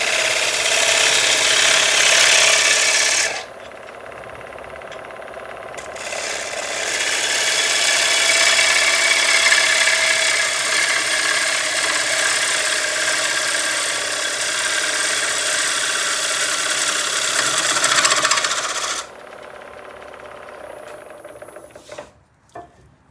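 A wood lathe spins a black walnut bowl at just over 1,000 RPM, a loud steady whir and hiss of tool cutting, easing briefly then resuming before winding down at the end, no talk.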